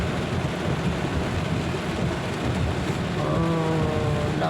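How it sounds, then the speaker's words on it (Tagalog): Heavy rain pours down in a dense, unbroken hiss with low rumbling thunder beneath it, loud and constant throughout, with no voices. "makusog kaayo ang ulan"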